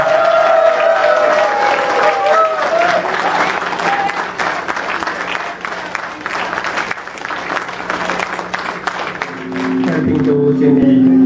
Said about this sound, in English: give a huge round of applause for Handover